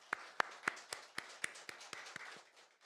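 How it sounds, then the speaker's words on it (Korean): A church congregation applauds together for the choir, giving a burst of about a dozen sharp, evenly spaced claps that thin out and fade toward the end. "크게 박수 한번 할까요?"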